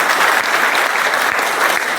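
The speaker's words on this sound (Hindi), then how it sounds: "एक बार जोरदार तालियां।" A crowd at a motivational business seminar bursts into loud, dense applause, steady and sustained throughout, close and full with no gaps.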